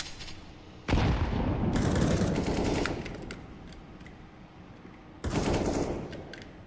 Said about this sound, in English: Throwing smoke. Grenade out.